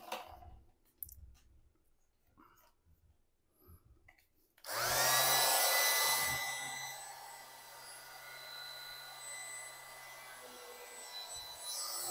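A vacuum cleaner working on wet hair: after quiet handling clicks, the motor starts abruptly into a loud, steady whine and airy roar that holds for several seconds, with no talking.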